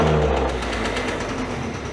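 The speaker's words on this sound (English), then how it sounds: "Revs up." A Buddy 50 scooter engine runs close by, holding a steady, buzzing rev with a low humming drone throughout the two seconds and no talking.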